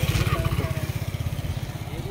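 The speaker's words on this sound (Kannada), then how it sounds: "ಹೌದು, ಬೈಕ್ ಬಂದಿದೆ" A motorcycle on an off-road hill trail arrives with a steady, rapid thumping engine beat, heard close and moderately loud without any talk.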